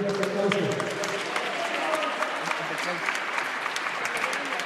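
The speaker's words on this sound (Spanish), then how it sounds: "para que tenga un fuerte aplauso" Steady applause from an audience honouring a frontenis player at a doubles final in Querétaro, even clapping throughout with a voice speaking over it early on.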